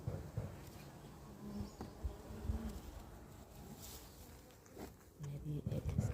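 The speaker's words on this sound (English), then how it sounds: "I don't know why the bee is stuck onto the hive tool." Honey bees buzzing around an open hive during an inspection where wax moth larvae were found, a faint, wavering drone close by with a voice talking over it.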